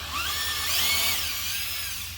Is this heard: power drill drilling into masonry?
yes